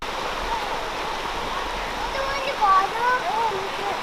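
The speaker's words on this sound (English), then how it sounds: "Look at the rapids." River rapids in Patapsco Valley Park on a hike, a steady broadband rush of churning water filling the whole stretch, with a few faint brief chirps above it.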